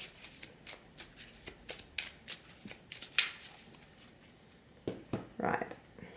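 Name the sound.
shuffling tarot cards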